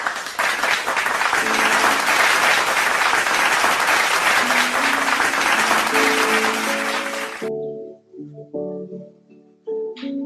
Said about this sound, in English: Let's motivate them with a huge round of applause